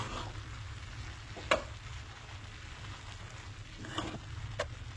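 Vegetables sizzle steadily in a pan as soy is added for a Goan-style festive vegetarian lunch, with two distinct scraping stir strokes cutting through the close, continuous frying hiss.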